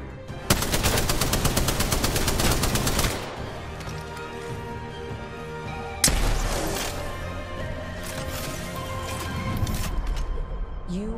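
Rapid automatic gunfire in an Apex Legends match, a dense sustained burst for about three seconds, a short lull, then another sharp volley followed by scattered shots.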